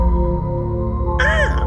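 A crow-like bird in the video game The Visitor gives a single loud, rasping caw near the end, over a steady droning game background.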